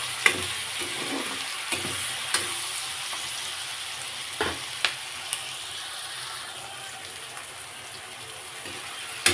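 Tomatoes fry in a pan for a paneer curry paste, giving a continuous soft sizzle with occasional sharper pops and spatula clicks, fairly quiet and close.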